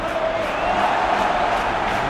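Stadium crowd noise from the PES 2021 football video game during a Real Madrid vs Manchester City match, a steady broad roar of cheering and chanting that holds level throughout with no clear voice on top.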